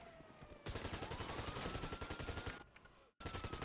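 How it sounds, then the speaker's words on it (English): Rapid automatic gunfire rattles in dense bursts during a Grand Theft Auto roleplay shootout, loud and continuous apart from a brief pause near the end, with a siren-like tone underneath. "Got shots fired. Shots fired."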